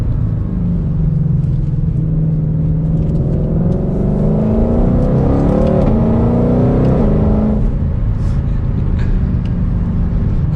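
A 2021 Ford Mustang Shelby GT500 engine while driving, a loud steady rumble with the pitch rising through the revs, then a sudden drop as it shifts, with no talk.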